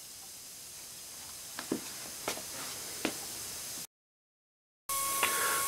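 A 3mm spray nozzle running at 75 psi gives a steady hiss of water spray with a few faint taps over it. The sound cuts out briefly, then resumes at the same level.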